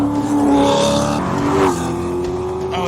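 A Cadillac race car growls on a track, its engine droning loud and close with rising and falling revs as it accelerates past.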